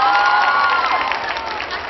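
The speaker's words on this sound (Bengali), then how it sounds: "স্যারের জন্য একটা করতালি হয়ে যা" A crowd at a school reunion claps and cheers for a teacher, a dense, loud wash of applause that carries evenly throughout, with voices mixed in.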